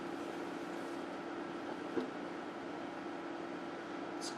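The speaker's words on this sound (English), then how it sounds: "I apologize for the fan noise in the background." A room fan drones steadily in the background, a faint, even whir with a low hum that stays constant throughout, with no voices.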